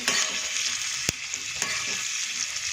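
Onions are mixed into hot oil in a pan: a steady bright sizzle with a couple of sharp spoon knocks against the pan and soft stirring scrapes, close by and without voices.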